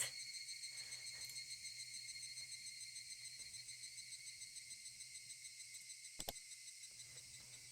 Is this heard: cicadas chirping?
yes